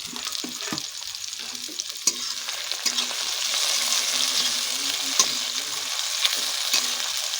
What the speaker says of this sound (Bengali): এটা ছোটো করে কোচা টমেটোগুলোকে আমরা দিচ্ছি এর মধ্যে, এগুলোকে গ্রেভি বানাবো